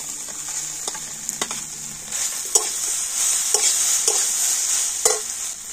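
Mashed boiled potato goes into a pan of frying cauliflower, bringing a steady high sizzle with repeated sharp scrapes and clicks of stirring, close and fairly loud, with no voices.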